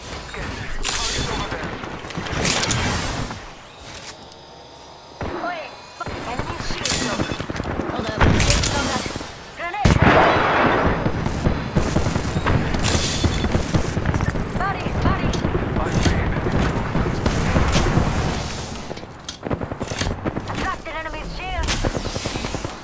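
Gunfire in the video game Apex Legends, loud bursts of rifle and automatic weapon shots in rapid volleys with brief lulls, mixed with game voice lines and talk.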